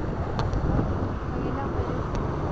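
Steady wind blows across the microphone at a riverside boulevard, a continuous low rushing roar that stays loud and even throughout.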